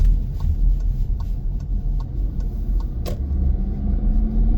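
A car drives through a residential neighborhood in Madison, New Jersey, its steady engine and road rumble close and continuous, with a few faint light clicks on top and no talk.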